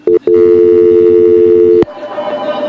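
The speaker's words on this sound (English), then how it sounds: "That's just the phone ringing back through the microphones." A telephone ringing, picked up through the studio microphones of a radio show, rings as one loud, steady electronic tone for about a second and a half, then cuts off abruptly and leaves faint room noise.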